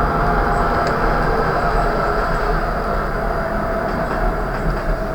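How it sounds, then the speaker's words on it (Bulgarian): A train rolls past near a station, a loud steady rumble with grinding rail noise that stays constant and close from start to end, with no talk. "но минава влак"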